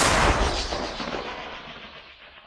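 A single heavy artillery gun blast near Kharkiv, Ukraine cracks loudly, then its rumbling echo rolls away and fades over a couple of seconds.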